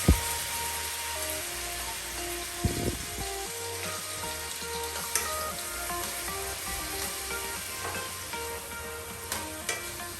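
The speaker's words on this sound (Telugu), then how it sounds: "ఇలాగా దోరగా అయ్యేదాకా మనం వేపుకోవాలి." Onion paste fries in oil in a pan, a steady close crackling sizzle throughout with occasional soft stirring knocks.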